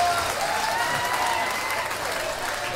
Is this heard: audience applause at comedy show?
yes